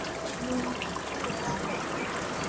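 Water pours and splashes steadily into a catfish pond being flushed of ammonia-laden water, a constant close gushing trickle that runs through the clip with no voices over it.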